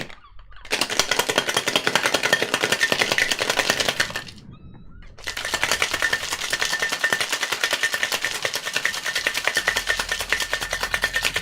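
A cocktail shaker rattles hard in rapid, dense bursts, one loud stretch of shaking, a brief pause, then a second long, vigorous round, close and loud with no speech.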